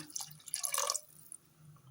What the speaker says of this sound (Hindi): मैंने ये फ्राई किए हुए कोफ्ते डाल दिए और थोड़ा सा पानी डालूंगी